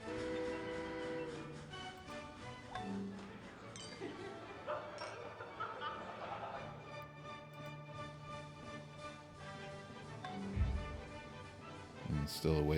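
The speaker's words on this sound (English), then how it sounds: "A lot of choo-choo trains." Train sounds in the strategy game Civilization IV, with railway rumble and horn-like tones mixed into a busy layer of game music and effects, with some talk over it.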